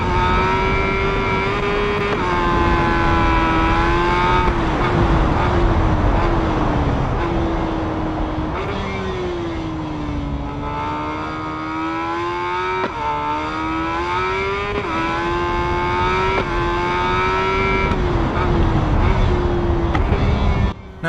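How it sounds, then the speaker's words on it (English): Superbikes in SBK 22 from a helmet camera view, a loud continuous engine wail that rises and falls through gear changes, with rushing wind noise and no talk. "let you hear the bikes within helmet cam"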